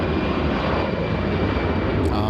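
A plane at LAX roars on takeoff, a loud, steady engine rumble heard close and filling the whole moment.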